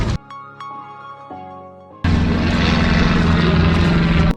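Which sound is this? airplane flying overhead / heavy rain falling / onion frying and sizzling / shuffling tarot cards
airplane flying overhead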